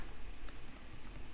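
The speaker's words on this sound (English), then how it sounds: "Please excuse my typing." Rapid, soft tapping on a computer keyboard, a steady patter of keystrokes close by with no voice over it.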